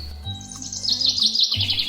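Cartoon birds chirp in a lively burst of high tweets and trills, layered over a low background tone, close and continuous for a moment with no talking.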